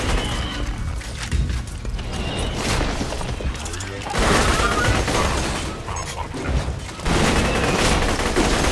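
Shotgun gunfire in Borderlands 2 comes as dense, loud blasts and crashing bursts, with heavier volleys around the midpoint and again near the end.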